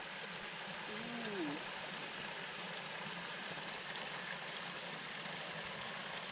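Steady low rush of a creek flowing across and along a forest hiking trail, constant and moderately faint throughout with no clear breaks.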